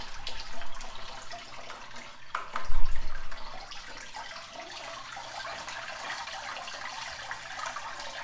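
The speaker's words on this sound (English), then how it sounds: "It'll take a little while to drain all this pulp out of here" Blueberry juice draining out of crushed pulp for homemade wine makes a soft, continuous trickling and splashing of liquid, with a few louder gurgles early and a brief low thump near the middle.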